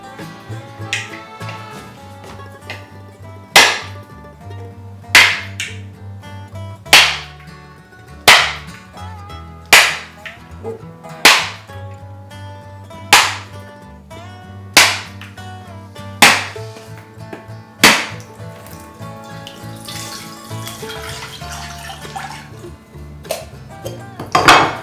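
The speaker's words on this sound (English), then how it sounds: "That's how you break the coconut shell." A knife strikes a coconut shell again and again, a dozen or so sharp, close cracks spaced about a second apart over a faint musical background, before the shell breaks.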